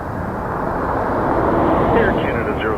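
A Boeing 787 Dreamliner passes at Toronto Pearson, its steady broadband jet roar holding loud and even for a few seconds, with a faint rising whine near the end and a voice speaking over it.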